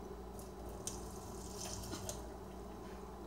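Boiling water poured into a blender jar, a steady liquid splash and trickle with a few brief drips and sloshes, close and moderately quiet, no talking.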